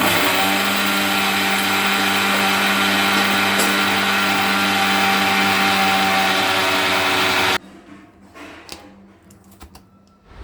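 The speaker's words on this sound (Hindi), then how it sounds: "सबसे पहले हमें चीनी लेना है और चीनी को जो है वो हमें मिक्सर में ग्राइंड कर देना है।" Sugar being ground in a kitchen mixer grinder, a loud steady whirring roar that runs for several seconds, then stops abruptly and leaves quieter kitchen handling noises.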